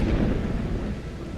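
Low, rumbling thunder rolls through a rainy scene in the video game Wuthering Waves, a brief dense growl with a soft wash of rain behind it.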